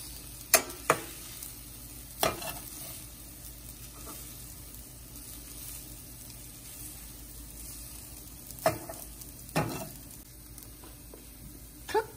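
Basmati chicken fried rice sizzles softly in a pan while a utensil scrapes and stirs, giving a few sharp clacks spaced irregularly over a low, constant frying hiss.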